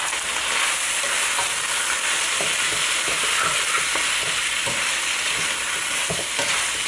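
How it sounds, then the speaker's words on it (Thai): Pad see ew rice noodles with black soy sauce are stir-fried in a hot pan on high heat, producing a loud, unbroken sizzle with quick spatula scrapes and clatters throughout. "แล้วก็ผัด"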